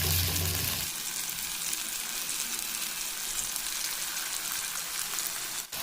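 Kothimbir vadi, coriander fritters, fry in oil in a pan over a low flame, making a steady, even sizzle that crackles like light rain throughout, with no voices.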